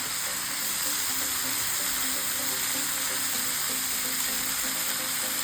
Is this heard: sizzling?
yes